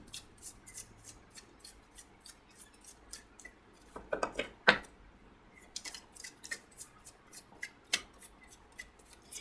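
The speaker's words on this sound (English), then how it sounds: "I like to shuffle a lot," Rapid, regular riffling snaps of tarot cards being shuffled, a steady patter of short crisp clicks with a denser flurry midway.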